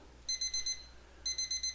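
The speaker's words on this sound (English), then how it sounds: "My alarm." An electronic alarm clock beeps in quick groups of four bright, piercing tones, a short pause, then another group of four, close and clear with no voices.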